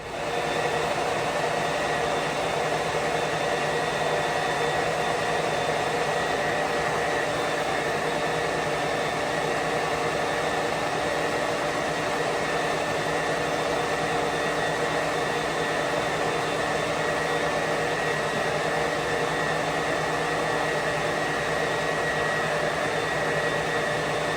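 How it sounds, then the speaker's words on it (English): A steady, loud blowing drone with a constant motor hum runs unchanged from start to finish from a hooded hair dryer left running. "I just set it in the dryer for an hour."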